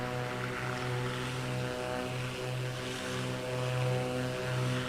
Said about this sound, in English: You can hear the gusts of winds